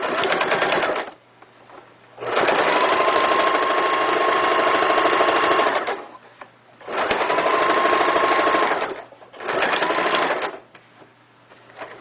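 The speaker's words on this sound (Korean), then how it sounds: "다른 한쪽도 동일하게 스티치 박음질 하겠습니다." A sewing machine topstitching a floral skirt runs in three loud, close bursts of rapid steady stitching, separated by short pauses while the fabric is repositioned.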